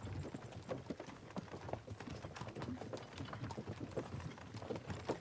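Horse hooves clip-clopping at a steady pace in the medieval game Kingdom Come: Deliverance II, a continuous rhythmic patter of hoofbeats, moderately close over a low ambient bed.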